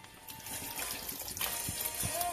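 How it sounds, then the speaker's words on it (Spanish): Water poured into a blender jar holding celery and ginger for a green smoothie, a soft, close splashing trickle with small knocks that builds slightly toward the end. "Y le voy a poner el agua."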